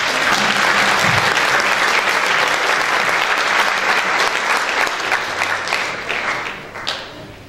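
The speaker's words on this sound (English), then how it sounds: "a big warm round of applause" An audience at a school jazz and mariachi band concert gives a jazz band loud, sustained applause that fills the hall and then tapers off near the end.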